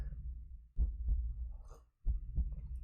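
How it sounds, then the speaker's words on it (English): Heartbeat sound effect in a horror cat video game, two deep, close double thumps in a slow steady rhythm, low and muffled against silence. "I can hear the heartbeat in my ears"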